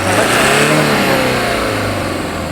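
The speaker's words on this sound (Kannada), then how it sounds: "ಇಂಜನ್ ಸೌಂಡ್ ನೋಡಿರಿ." A used Toyota Fortuner's engine revs loudly and close by, a steady rising mid-range roar held for a couple of seconds with no voices over it.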